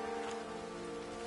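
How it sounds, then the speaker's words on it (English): Steady rain falling in the video game Witcher 3, a continuous soft hiss with even patter and no distinct drops, faint and unbroken throughout. "It's raining again"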